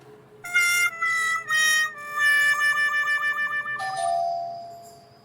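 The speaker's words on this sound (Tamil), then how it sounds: "வந்துட்டு காலிங் பெல் அடிப்பார்" A home doorbell plays a bright electronic chime melody, several ringing tones stepping through a short tune and ending on a sustained note, loud and alone.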